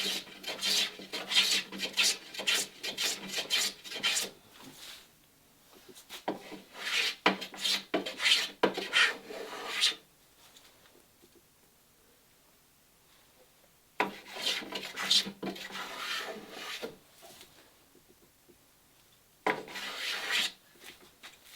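Sandpaper rasps back and forth over a wooden chamfer on a boat console, in close bursts of quick rubbing strokes separated by quiet pauses.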